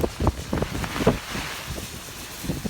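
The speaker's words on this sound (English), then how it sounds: "prepare for winds like this for the rest of the night" Typhoon-force wind gusts from Typhoon Hagibis in Tokyo, a continuous roaring rush with repeated buffeting swells and thumps, steady and loud throughout with no voices.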